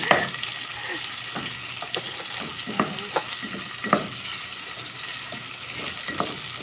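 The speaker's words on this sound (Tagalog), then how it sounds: "Tapos, haluin lang natin hanggang sa medyo maluto." Sardines and broccoli stirred in a frying pan, with a steady sizzle and scattered scraping clicks from the utensil throughout; no one speaks.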